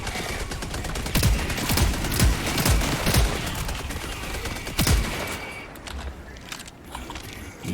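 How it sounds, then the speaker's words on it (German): An automated sentry gun in a video game, firing sustained loud bursts of rapid shots with sharp individual cracks standing out, then fading into quieter ambience near the end. "weil der Sentry in meine Richtung schießt"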